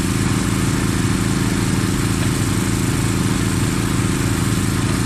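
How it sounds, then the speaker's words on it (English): A trommel on a fine gold recovery site, kept fed by a mini excavator, runs with a steady, loud mechanical engine drone and a constant rumbling churn that holds unbroken throughout, with no voices. "Gary just feeds that trommel with the mini there"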